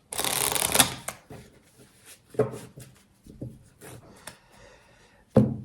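Tarot cards shuffled by hand in quick riffling bursts, a loud crisp flurry first and then scattered softer shuffles and taps close to the mic, with no speech.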